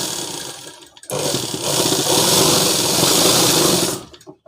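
Sewing machine stitching a school or college dress in one continuous press, a loud close motor drone that starts after a brief pause, runs steadily for about three seconds and then stops.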